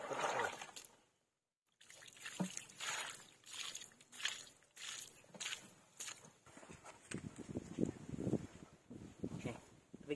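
Water trickles and dribbles softly over rocks outdoors in a stream, faint and uneven, with scattered footsteps and movement through the water and brief voices in the background.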